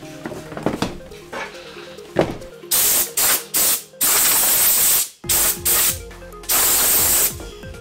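Compressed air blasts in short loud hissing bursts against an ATV air filter, several quick sprays followed by longer sustained blows, with knocks and handling clatter before them.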